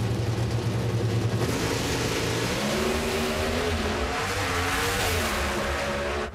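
Pro Stock drag race cars accelerate hard down the track at a 2014 Thunder Valley Nationals round, a loud, continuous engine roar whose pitch climbs and shifts as the cars pull away, with no speech.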